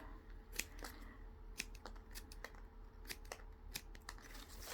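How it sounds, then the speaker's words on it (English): Scissors snipping the tips off harakeke flax leaves, a series of quiet, crisp cuts at an uneven pace, close by, with no talking. "And then I personally cut the tips off."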